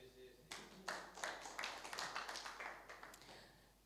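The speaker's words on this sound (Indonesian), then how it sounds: "Thank you, tepuk tangan" Audience applause at a sermon, a scattered burst of clapping that rises and tapers off, fairly faint in a large room.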